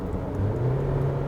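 A 2022 SsangYong Musso pickup truck engine in power mode, a close, steady low rumble that rises slightly in pitch as it revs, heard alone with no talk.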